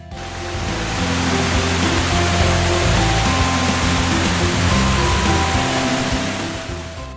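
River water rushing beneath a swing beside forest at a riverside restaurant near Mount Salak in Bogor; a loud, steady broadband roar of flowing water fills the whole stretch, fading slightly at the edges, with no voices.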